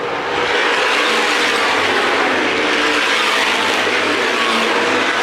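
Late model sportsman race cars roar down the straightaway at Winchester Speedway during a 2010 CRA championship race, a loud, dense, sustained engine din filling the whole stretch with no break.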